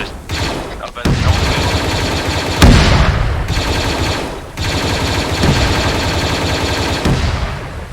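Dense, rapid Arma 3 cannon and gunfire in a Clone Wars military simulation, with heavy booming blasts, rattles on almost without pause, loud and close, with a sharp explosion near the middle.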